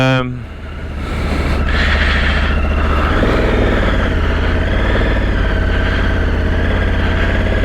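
A 2021 Honda Africa Twin Adventure Sport motorcycle engine runs steadily and loudly up close, with a low, even throb held throughout.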